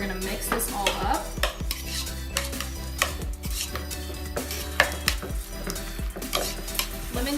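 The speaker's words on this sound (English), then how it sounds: "Put that sauce in there, and we're gonna mix this all up" A utensil stirs and scrapes through a sauce of flour, balsamic and cherry pepper syrup in a dish, with loud, continuous clinking and sloshing strokes close by and no talk.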